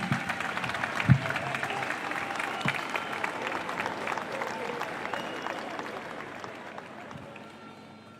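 A crowd at the PIT-CNT May Day labor rally in Montevideo, Uruguay, applauds an incoming speaker, a broad outdoor wash of clapping with a few louder thumps, gradually tapering off toward the end.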